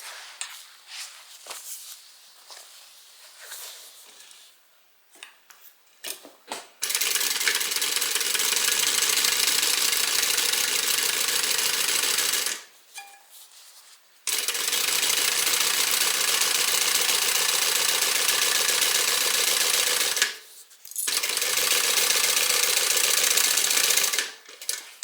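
A sewing machine top stitching a quilted bag panel seam runs in three long, steady whirring bursts, close and even, with short pauses and small handling noises between the runs.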